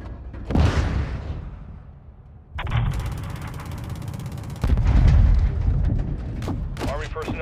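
Artillery shells strike targets in the Modern Warfare 2 campaign: several heavy booms with rolling rumble, separated by mechanical clattering and a dense buzzing drone, and a few sharp cracks near the end.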